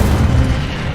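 Short booming fire blast from the Incendio spell in Hogwarts Legacy, a heavy low-end whoosh that is loud at once and eases off within a second.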